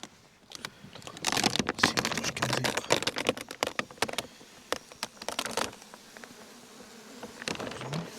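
Honeybees clustered in a hive at season's end buzz in a steady hum close by, with wasps persistently getting at them, overlaid with many short crackling clicks and taps of insects moving over the frames.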